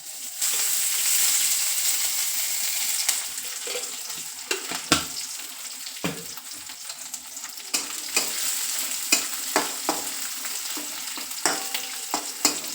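Onion, green chillies and crushed garlic frying in a pan make a steady, close sizzle, broken by repeated sharp clicks and scrapes as a spoon stirs them.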